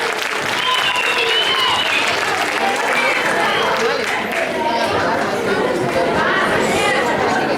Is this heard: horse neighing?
no